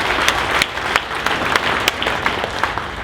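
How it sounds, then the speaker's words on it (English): A seminar audience bursts into loud, close clapping, a dense and uneven patter of many hands with sharp individual claps standing out. "So give yourselves a round of applause."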